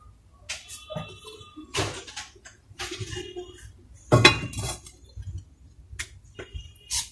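Metal cooking pots, a set of four with a casserole and grill pan, clank and clink as they are lifted and set down, scattered bright knocks and rattles up close, with quiet pauses between handlings.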